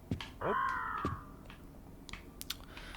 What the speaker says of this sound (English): That sounded like one very unhappy bird.